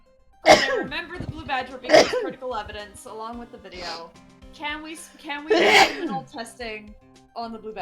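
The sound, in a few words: sneeze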